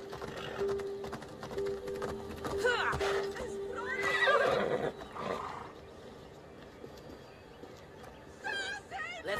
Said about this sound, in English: I need to take this horse either to Adamus or to the stable boy.